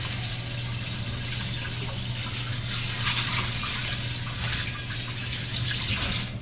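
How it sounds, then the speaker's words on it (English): Tap water runs steadily over a platter smeared with raw meat, rinsing it clean in a kitchen sink; a constant, fairly loud splashing rush with a low hum beneath, no talking. "rinse off your platter so you can reuse it, because you smeared raw meat on it"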